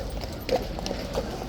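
Horse hooves clip-clop on a hard surface, a few distinct, moderately close knocks spaced unevenly over a low background hum.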